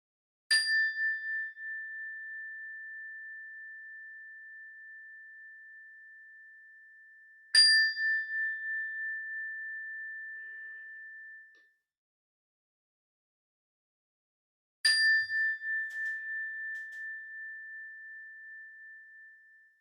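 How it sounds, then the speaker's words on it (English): A mindfulness bell is struck three times at even intervals, each pure, clear tone ringing out alone in silence and slowly fading away. "In a moment, I'll ring the bell."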